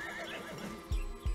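A horse in the Western video game Desperados 3 whinnies, then two sharp hoof thumps land close by, with game ambience underneath and no voices.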